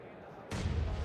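A grenade blast in the battle royale game BGMI during an esports grand final, a sudden loud boom that hits midway and rumbles on under an excited commentator's voice.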